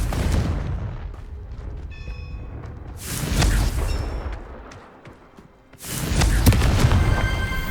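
Confringo blasting spell explosions in Hogwarts Legacy: three loud booming blasts in turn, each with a rumbling tail, the last two louder and separated by a brief lull.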